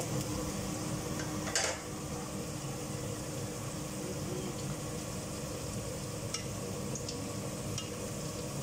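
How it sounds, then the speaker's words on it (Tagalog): Carrots and potatoes fry in a pan, giving a steady, even sizzle throughout, with one brief clatter of a utensil near the start and a few faint clicks later. "So guys, piprito ko muna yung carrots at saka patatas."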